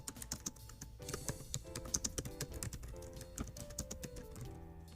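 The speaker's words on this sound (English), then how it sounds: "I'm actually going to type it in," Rapid, uneven clicking of keys on a computer keyboard, typed quickly and close up, quiet overall with no talking.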